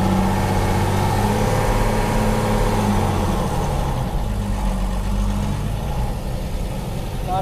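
A Mercedes Unimog FLU419 tractor in four-wheel drive grinds steadily over steep motocross jumps, its heavy diesel engine droning loud and continuous with a slight dip in pitch midway.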